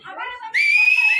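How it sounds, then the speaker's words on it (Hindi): An audience member at a Mumbai trailer launch gives a loud, sharp, sustained whistle, cutting in after a moment of crowd voices and holding a steady high pitch for over half a second. "एक बार सीटी बजा के बताओ मेरे को."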